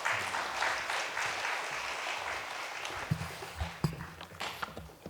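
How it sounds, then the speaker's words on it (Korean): Church congregation applauding to welcome a pastor at a special dawn prayer service during Holy Week: sustained, steady clapping from a crowd in a hall, with a few sharper knocks toward the end. "박수로 우리 목사님 맞이하겠습니다"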